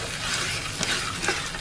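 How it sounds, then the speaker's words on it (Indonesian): Spices with star anise sautéing in a pan give a soft, steady sizzle with faint stirring scrapes, quiet and close, with no talking. "Kita sekalian tumis sebentar."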